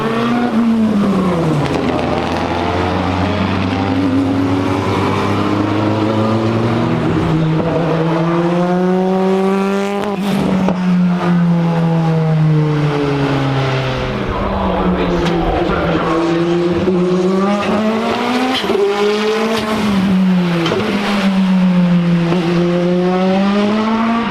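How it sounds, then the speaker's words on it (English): A loud Renault 21 touring car engine screams past repeatedly at the Goodwood Festival of Speed, its pitch rising and falling through gear changes and passes, continuous and close. "one of the loudest touring cars I've ever heard"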